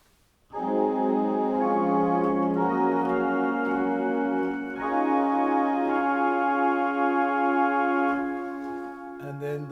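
Pipe organ string stops sound a held chord progression with a thin, bright, buzzy sustained tone, entering after a brief pause and continuing steadily, then shifting to a lower note near the end.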